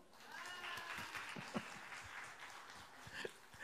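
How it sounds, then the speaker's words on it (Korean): Congregation applauding during a Sunday church service, a soft, distant patter of clapping filling the whole stretch, with faint room murmur beneath. "박수!"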